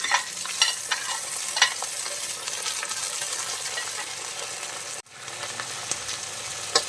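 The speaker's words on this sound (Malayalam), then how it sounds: "നമ്മുടെ വെളുത്തുള്ളിയും ഇഞ്ചിയും എല്ലാം നന്നായിട്ട് മൂത്ത് വന്നിട്ടുണ്ട് കേട്ടോ" Chopped ginger and peeled garlic frying in a pan give a steady, even sizzle with faint stirring clicks, close and moderately loud, briefly dipping for a moment near the end.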